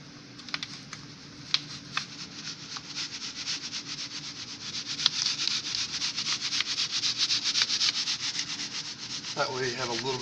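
Green molding sand is shaken through a riddle sieve over a foundry mold in a dense, continuous gritty rasping that builds in loudness, with a few sharp taps early on and a brief voice near the end.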